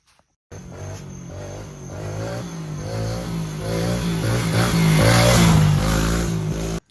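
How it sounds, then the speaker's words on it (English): A 2023 Kawasaki KLX 110R dirt bike with stock carburetors revs steadily, its small engine climbing in pitch and loudness through repeated throttle blips, close by and with no talk. "Kawi with the airbox design they got, and these stock carburetors, they just rip"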